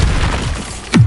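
A Bombarda spell explodes in the Hogwarts Legacy video game, a loud low boom bursting near the end after a steady rumbling bed of game noise.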